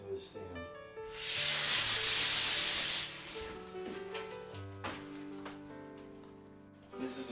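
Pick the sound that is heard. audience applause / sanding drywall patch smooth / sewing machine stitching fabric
sanding drywall patch smooth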